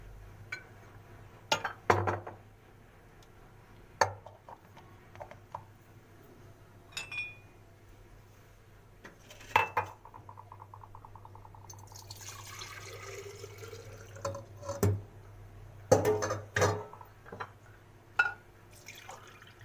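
Glass cups being handled at home while milk is poured into them for homemade yogurt: scattered clinks and taps, a longer stretch of liquid pouring and filling, and sharp glassy knocks, close and fairly quiet with no talking.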